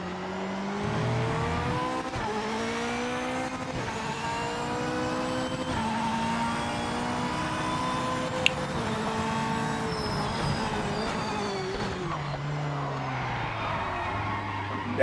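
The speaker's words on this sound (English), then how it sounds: "Damn, we just straight drifted around that corner." A race car in the video game Project Motor Racing, played on a Fanatec GT DD Pro 8Nm wheel, drifts through a corner: a sustained engine whine shifting pitch as revs rise and fall, with tire squeal, steady and fairly quiet.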